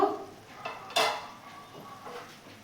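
A metal lid lifts off a pot of boiling bottle gourd greens with one sharp clatter, then a few quieter knocks against the rim fade into a low kitchen background.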